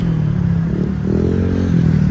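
Motorcycles revving and idling on Roxas Boulevard as riders show off, a steady close engine drone with rising and falling revs throughout, no talk.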